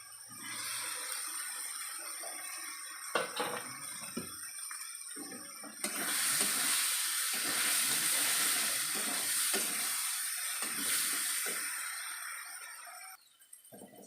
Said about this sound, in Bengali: মশলাটা ভাজা হয়ে গেছে বন্ধুরা, এবার চিংড়ি মাছটা দিয়ে দেবো।